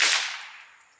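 A single sharp rifle report with a subsonic bullet, loud and near, its broadband crack decaying over about a second into a fading echo.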